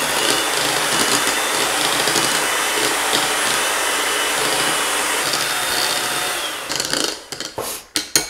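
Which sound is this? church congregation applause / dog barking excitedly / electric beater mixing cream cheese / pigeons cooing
electric beater mixing cream cheese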